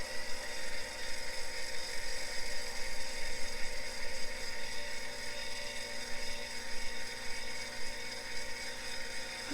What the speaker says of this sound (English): I'm going to lower the wheel to the dresser